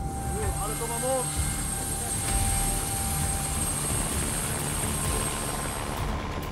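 A military aircraft, probably a helicopter, flies at a military base with a loud, steady rotor-like drone throughout, and voices can be heard under it.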